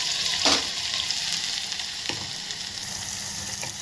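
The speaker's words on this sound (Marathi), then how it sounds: "याला कलर येऊ देते कांद्याला, गोल्डन येईपर्यंत परतून घ्यायचं" Chopped onion frying in oil with cumin in a pan, a steady close sizzle throughout with a few soft stirring scrapes and no talking.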